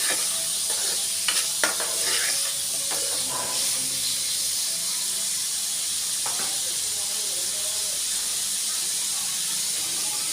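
Ridge gourd pieces with soaked tamarind cook and get stirred in a pan, a steady close sizzle and hiss running throughout with scattered scraping clatters of the spoon early on.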